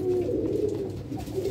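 Pet pigeons coo in a steady, continuous murmur, close by and moderately loud, with overlapping low rolling calls throughout and no talking.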